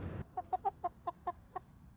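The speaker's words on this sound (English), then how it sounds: "My chickens." Farmyard chickens cluck in a steady string of about eight short, evenly spaced clucks, close and clear after a brief burst of louder noise at the start.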